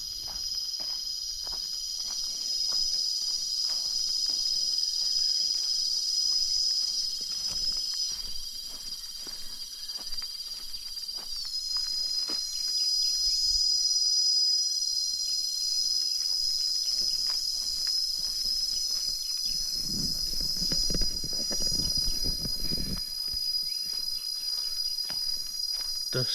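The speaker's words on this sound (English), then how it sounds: "The cicadas are actually going to be a problem possibly" Loud, steady high-pitched cicada drone fills a forest valley in Magoebaskloof throughout, with a few faint rustles and footsteps and a brief low thump near the end.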